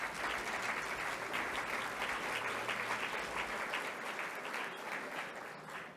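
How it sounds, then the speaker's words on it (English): Audience applause fills a conference hall at the ACS 2024 convention in Atlanta, Georgia, after opening remarks; dense, steady clapping from a large crowd, loud and sustained for about six seconds, easing slightly near the end. "I'd like you to applaud them for that."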